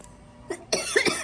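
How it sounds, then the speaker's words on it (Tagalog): A couple of short, close coughs, one faint and then a stronger double cough, in a quiet room. "Inuubo na naman ako."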